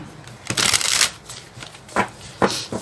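Tarot cards are shuffled up close in brisk, riffling bursts, one long flurry followed by a few shorter rustling shuffles, with no talk over them.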